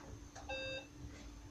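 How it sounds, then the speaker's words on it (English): A short, pure electronic beep from an Acorn Electron computer as it powers on, a single faint tone lasting about a third of a second over quiet background hum. "it gives a beep when it turns on"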